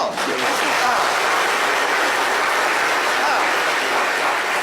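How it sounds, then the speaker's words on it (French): Studio audience applause, a dense continuous wash of clapping at a steady loud level throughout. "on va applaudir ce moment"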